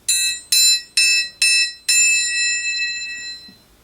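A metal striker hits a bell five times in a steady rhythm, each strike bright and loud, with the last note ringing on and fading slowly.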